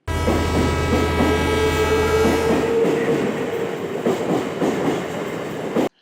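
An electric Mumbai local EMU train rumbling loudly nearby with a steady electric hum and rattling wheels, the tone shifting partway through as it moves along.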